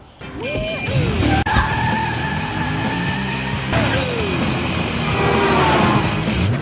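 Close squeaks and creaks as a strap is pulled and knotted onto a musical instrument: a run of sliding, whining tones over a rough, steady rubbing, with no talk.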